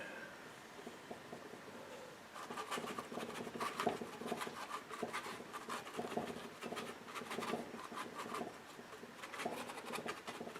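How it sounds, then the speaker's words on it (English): Oil paint brush scraping and scratching across rough paper board, a close, busy run of dry strokes for most of the clip after a quieter start. "can hear the roughness in the paper in the board"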